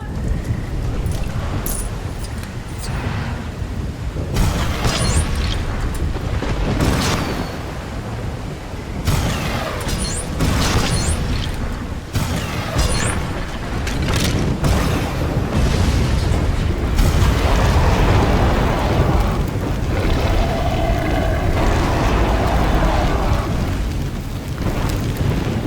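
Fuel drums exploding after being shot in the LEGO Jurassic Park video game, a run of loud booming blasts and crackling debris bursts over a dense, continuous game soundscape.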